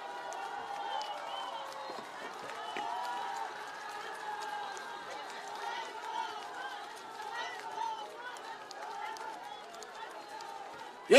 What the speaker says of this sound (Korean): 한동훈 위원장님 큰 박수로 해주십시오